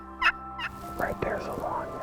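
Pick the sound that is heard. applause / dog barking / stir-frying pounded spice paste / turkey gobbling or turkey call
turkey gobbling or turkey call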